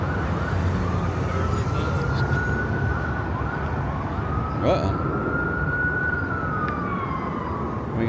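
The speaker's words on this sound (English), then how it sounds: "we got some sirens." A distant emergency siren wails, rising and falling slowly above a constant rumble of traffic on the Las Vegas Strip at night.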